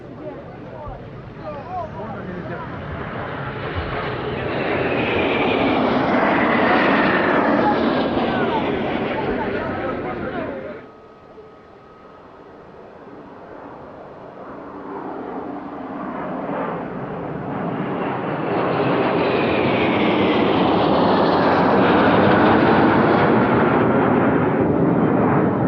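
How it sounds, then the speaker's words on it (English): A Yak-130 fighter trainer and light attack jet roars past at a Russian Air Force 100th anniversary air show, its loud engine noise swelling to a peak, cutting off abruptly, then building again into a second long roar. "And now for the long-awaited fighter flypast. First, the Yak 130 fighter trainer and light attack aircraft."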